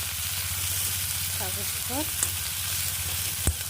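Leafy greens with a pinch of turmeric sizzle steadily as they fry in a pan, a close, continuous crackle with a couple of light utensil taps and a few spoken words over it.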